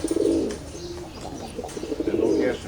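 A lavender pigeon hen gives soft, close cooing, two throaty coo phrases separated by a brief pause.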